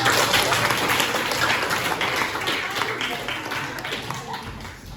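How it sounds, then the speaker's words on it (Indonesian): Participants at a dance creation workshop applauding for a student who explored monkey movements, a dense continuous patter of clapping that eases slightly in loudness over several seconds. "Tepuk tangan buat Bima"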